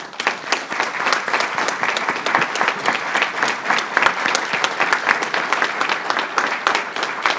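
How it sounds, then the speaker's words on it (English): An audience at a groundbreaking ceremony for a cancer center in Prince George's County gives the governor a sustained round of applause, dense, even clapping from many hands that holds steady throughout without any speech. "a round of applause."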